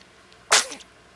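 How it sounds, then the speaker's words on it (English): A baby girl gives one short, sharp sneeze close up, a single burst in an otherwise quiet moment. "You sneeze on mommy's face."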